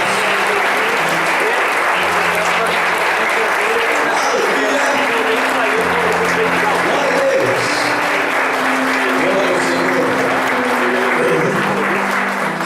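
Congregation applauding during a Sunday worship service, loud continuous clapping under an orchestra's sustained chords, with voices calling out over it.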